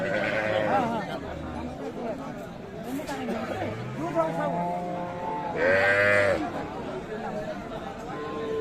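At the Aftabganj cattle market in Dinajpur, a nervous Sahiwal cow with her calf lows among the crowd. Her deep calls rise through steady market chatter, and people talk close by.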